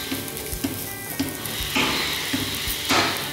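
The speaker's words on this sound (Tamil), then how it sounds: "இதுலேயே நம்ம புளியும் போட்டு வதக்கிக்கலாம்" Tamarind and grated coconut being sautéed in a pan, a steady close sizzle with rhythmic light taps of a spatula and two louder scraping sweeps of stirring, no speech.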